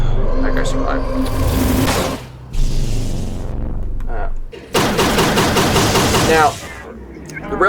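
Railgun fire in the VR game Dark Fringe Defense, loud bursts of rapid mechanical crackling and blasts broken by short gaps, close and dense, with game sound effects.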